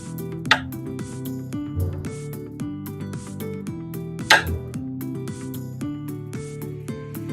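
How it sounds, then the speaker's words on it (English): Knife slicing boiled potatoes on a board, irregular crisp cuts with a couple of sharper knocks, set against a layered musical background throughout. "I've started slicing my potatoes, not too thinly."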